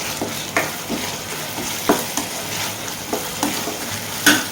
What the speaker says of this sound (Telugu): ముక్క పెట్టేసుకొని ఫ్రై చేసేసుకొని